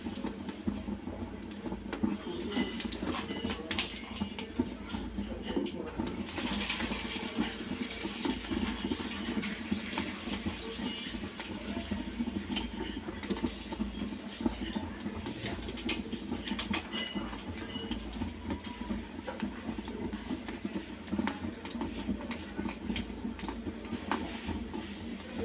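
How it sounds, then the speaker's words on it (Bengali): Flour-and-egg biscuits frying in hot oil over low heat, a steady soft bubbling crackle running continuously at low volume with no voices. "সবগুলো বিস্কিট আমি হালকা আঁচে লাল লাল করে ভেজে নেব।"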